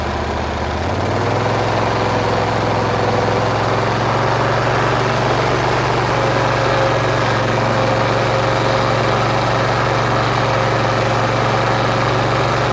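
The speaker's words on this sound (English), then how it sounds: "let me crank the RPMs up and see if you can still hear me" A heavy engine idles, then rises to higher RPM around the one-second mark and holds a loud, steady drone with no talk.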